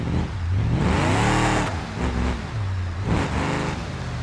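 A car's exhaust in the BeamNG driving game rumbles and revs up and down in rising and falling sweeps, loud and close, with no talk.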